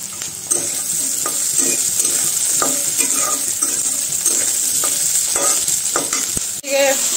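Potatoes and onions with green chilies frying in a pan, with a continuous close sizzle and repeated scraping and stirring strokes, then a sharp clank near the end.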